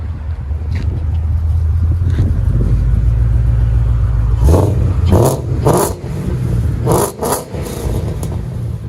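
A Ford Mustang with a 5.0 Coyote V8 and headers exhaust idles with a deep, loud rumble, then is revved hard several times in quick bursts close by.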